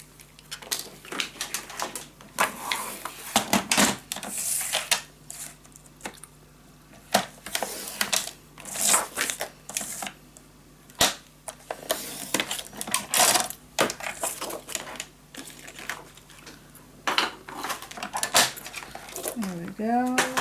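Paper is cut for a scrapbook mini album photo frame, with repeated crisp snips and handling clicks in an irregular rhythm, close and fairly loud, alongside talking.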